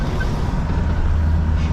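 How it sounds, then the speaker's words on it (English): A big blue truck rig rolls past on a windy industrial street in Lachine, Montreal, a low, steady engine rumble mixed with wind buffeting, continuous and fairly close. "There's a nice looking rig coming up here,"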